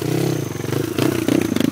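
A motorcycle engine runs loud and close during an off-road trail ride, its rapid pulsing putter rising in pitch as the rider revs it in short bursts.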